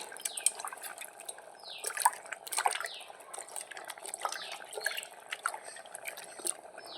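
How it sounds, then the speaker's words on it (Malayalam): Tamarind water is poured into a dish in a home kitchen, giving sparse, light splashes and drips with small clicks, fairly close and quiet. "പിന്നെ നമുക്ക് അതിലേക്ക് കുറച്ച് പുളി ഒഴിച്ചു കൊടുക്കാം"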